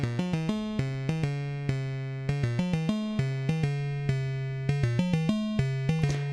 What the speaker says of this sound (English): you can turn from your super saw to super square, and that sounds like this.